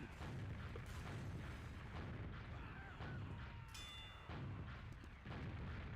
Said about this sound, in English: Massive. Artillery barrage.